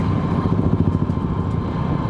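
A Royal Enfield Classic 350 motorcycle engine runs steadily and loudly up close, a continuous low throbbing rumble with no pauses.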